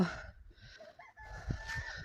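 Guinea fowl calling in a barn, a few harsh, grating cries close by with pauses between them, no voices.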